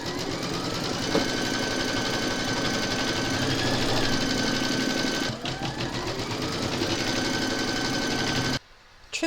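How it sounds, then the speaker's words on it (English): An embroidery sewing machine stitching an owl applique, a steady, fast mechanical whirr with even rapid needle rhythm and slight changes in pitch, running continuously and then cutting off near the end. "Pop your hoop into your machine and stitch round number 2."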